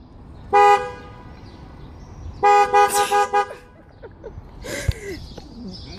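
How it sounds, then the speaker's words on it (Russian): A car horn honks in short bursts at a street location: one brief toot, then a longer series of rapid beeps, with faint voices and passing traffic between them. "Она не верит, что я бибикну."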